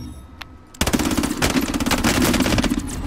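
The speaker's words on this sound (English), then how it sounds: "Why does everyone go around shooting people on this?" Rapid automatic gunfire in the Call of Duty Black Ops Cold War video game, loud sustained bursts of close shots that begin abruptly after a near-silent moment with one faint earlier pop.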